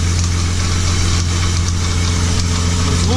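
A BMW E30 fitted with an M52B28 straight-six idles with a strange knocking fault, a loud, steady close-up rumble with faint regular taps running through it.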